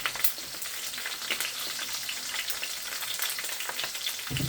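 Sliced onions sizzle steadily in hot oil for pork bistek, a dense crackling fry with occasional stirring scrapes, close and alone without voices.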